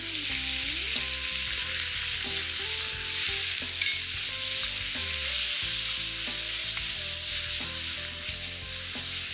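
Thinly sliced pork for a miso pork stir fry sizzles and crackles steadily in a hot pan while being stirred, a continuous bright hiss running under background music throughout.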